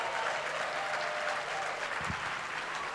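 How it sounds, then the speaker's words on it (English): A leadership conference audience applauds steadily and evenly throughout, a moderately distant wash of many hands with no voices standing out. "Don't stop clapping."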